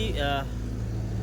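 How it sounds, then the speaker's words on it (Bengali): A car engine runs at a steady low idle, a smooth continuous hum close by, with a brief voice near the start. "এই গাড়িটার ইঞ্জিনের সাউন্ড কিন্তু অনেক সুন্দর অনেক মিষ্টি সাউন্ড ইঞ্জিনের"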